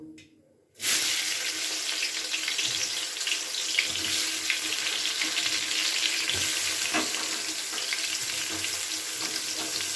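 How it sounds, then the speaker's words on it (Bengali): Eggplant frying in hot mustard oil, a steady broadband sizzle that begins abruptly after a brief quiet start and continues loud and even throughout, with no talking. "এবার আমি বেগুনটাকে ভালো করে ভেজে নেবো"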